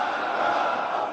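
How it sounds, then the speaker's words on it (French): Standing Iranian parliament members chant "Death to America" in unison, a steady, loud wall of massed voices that holds for the whole moment without a break. "En plein Parlement, tous debout crient « À mort l'Amérique !»"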